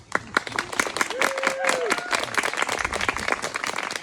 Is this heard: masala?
no